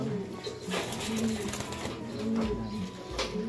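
Racing pigeons in a loft, soft repeated cooing and faint bird calls near and far, with people talking and some background bustle over them.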